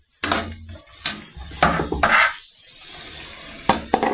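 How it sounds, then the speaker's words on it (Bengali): Chunks of bottle gourd for a Bengali lau chingri are tipped into a pan of fried spices, giving several sharp clatters and scrapes of a spoon against metal with soft stirring and faint sizzle between. "এবার আমি লাউটা দিয়ে দেবো।"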